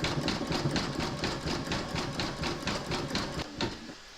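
An embroidery machine satin-stitches an appliqué koala with dark grey thread, its needle hammering in a fast, regular rhythm up close before the stitching slows and stops near the end.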